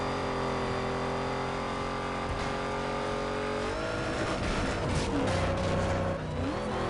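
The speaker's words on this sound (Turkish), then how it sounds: "Evet bu videomuzda bir drag yarışı yapalım." Ford Mustang drag racing in Need For Speed Most Wanted: a loud, steady engine drone holds high revs, drops with a gear shift partway through, then climbs again with whooshing rushes, close and continuous.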